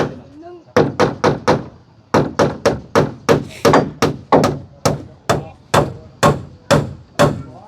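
Nails being hammered into hard wood, a steady run of sharp, loud blows in quick bursts of three to five, each strike ringing briefly before the next, close by with no talking.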